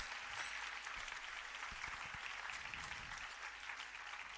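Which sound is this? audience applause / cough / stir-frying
audience applause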